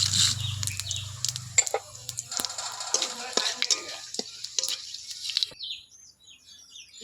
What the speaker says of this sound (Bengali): এবার তেলের ওপর ফোড়ন দেব জিরে তেজপাতা অল্প একটু চিনি